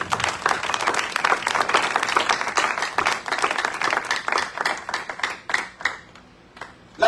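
A church congregation applauds during a sermon, dense, lively clapping from many hands filling the space, thinning into scattered claps near the end.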